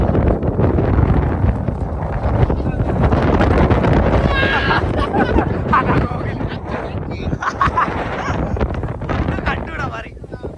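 Strong gusty wind on a hilltop at Rajathottam buffets the microphone in heavy continuous roaring gusts, loud and close throughout, with voices talking underneath.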